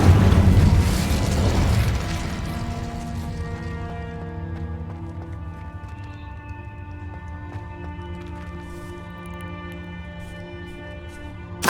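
Incendio fire spell cast in the Hogwarts Legacy video game: a loud burst opens, then settles into a long ringing, shimmering tonal tail that slowly fades over roughly ten seconds, with no voices.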